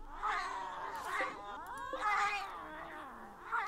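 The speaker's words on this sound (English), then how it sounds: "22 cats? That's a lot of cats." Cats in the video game Rimworld, several drawn-out meows and yowls following one another, fairly clear and close, with no voice over them.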